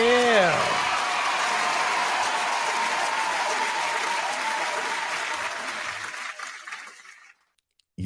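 A crowd breaks into loud applause for a DJ on a mixshow episode, steady dense clapping that holds for several seconds, then cuts off abruptly, with a sweeping sound effect at the start.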